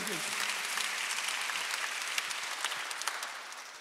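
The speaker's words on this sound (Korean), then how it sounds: "박수 한번 주세요." Applause from a church congregation during a Sunday worship service, a dense, steady wash of clapping that holds throughout with some faint voices mixed in.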